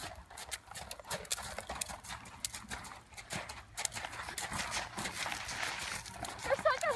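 Hooves of a short-legged horse in a big, level canter, a steady muffled drumming with clip-clop beats under continuous talk nearby.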